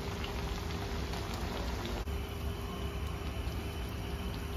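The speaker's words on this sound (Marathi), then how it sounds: "मीडियम गॅसवरती तळायचे" Pumpkin vada fritters fry in oil over a medium flame, a steady dense crackling sizzle that holds evenly from start to finish with no talking.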